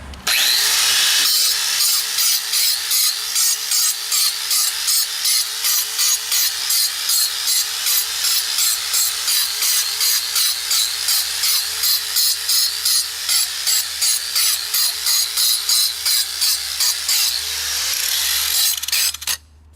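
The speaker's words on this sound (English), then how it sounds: "So I get this kind of grinder with the wheel." Angle grinder with a wheel grinding paint off an old stone foundation, a loud, steady, high-pitched whine with rapid rhythmic pulsing that runs for about twenty seconds before cutting off.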